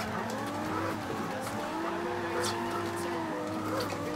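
Toyota Supra drifting in the Forza Horizon 2 racing game, engine droning steadily with tires squealing and skidding throughout, a player talking over the game audio.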